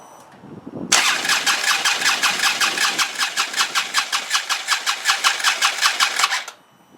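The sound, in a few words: Harley-Davidson Road King motorcycle engine cranking, trying to start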